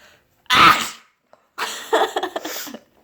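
A single explosive sneeze from a girl who has been sniffing pepper, followed by a breathy sniffling and spluttering recovery, close and loud.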